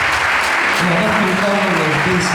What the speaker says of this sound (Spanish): Damos un buen aplauso a la palabra del Señor